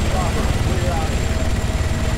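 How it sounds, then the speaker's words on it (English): A civilian helicopter in a video game flies nearby with a loud, steady rotor-and-engine drone that fills the short stretch, with a voice talking over it. "Wait, he's a civilian chopper."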